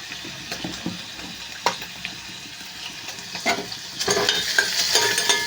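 Prawns frying with turmeric in a pan, sizzling under repeated spatula scrapes and knocks, the frying hiss swelling louder toward the end.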